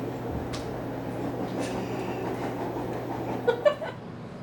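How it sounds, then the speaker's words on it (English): A train riding on rails, its steady low rumble and mechanical hum continuing throughout, with a couple of brief louder clanks near the end and no talking. "I'm on my way to the train to get to school now."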